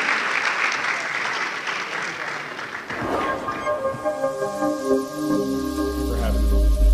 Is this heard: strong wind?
no